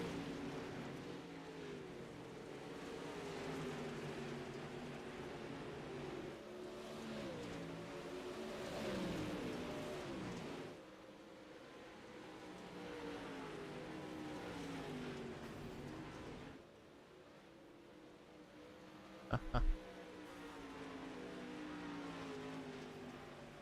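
Pro Late Model race car engine heard on-board during championship night at Knoxville, a steady loud roar with shifting pitch and a sharp brief burst near the end.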